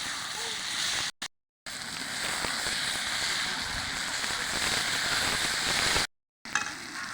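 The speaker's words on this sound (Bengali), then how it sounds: "ভালোভাবে নেড়ে এটা হালকা ভেজে নেব।" Potato pieces fry in hot oil while being stirred, a steady close crackling sizzle that continues throughout and cuts out briefly twice.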